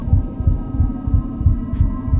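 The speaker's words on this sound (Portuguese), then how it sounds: "Batimento cardíaco." Steady, looping heartbeat thumps from the Inside the Backrooms video game, deep and evenly paced at roughly three beats per second, over a low hum with no voices.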